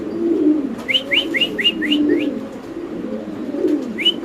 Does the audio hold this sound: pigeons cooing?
yes